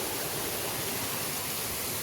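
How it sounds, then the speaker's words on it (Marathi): The hidden Ghubadi waterfall in Jawhar taluka roars as a steady, broad rush of falling water, close and unbroken, with no voices. "तो जव्हार तालुक्यात हिडन धबधबा आहे"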